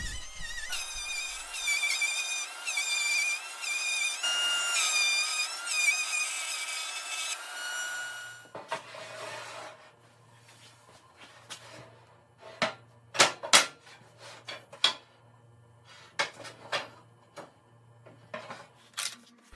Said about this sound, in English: Here I'm using the router to put a nice round over on the outside face of the hanger on the top.